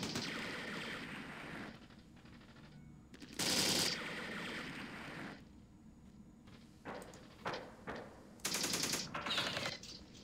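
Gunfire from the strategy video game Campaign Series: Middle East comes in several irregular bursts of rapid machine-gun rattle and sharp shots, separated by quieter stretches, with no speech.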